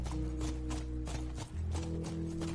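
Horse hooves clip-clopping in The Last of Us, a steady rhythmic clatter of close, loud steps over a constant game-music bed, with a brief dip midway before the gait resumes.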